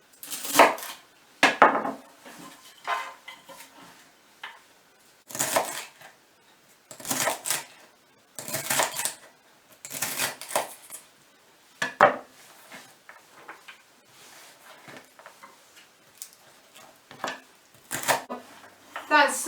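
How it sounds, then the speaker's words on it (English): Knife chopping celery-like vegetable stalks finely on a board: irregular bursts of close, crisp chopping strokes separated by pauses, with quiet handling noises in between. "That's the last of the stalks cut finely."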